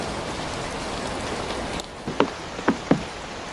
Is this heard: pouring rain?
yes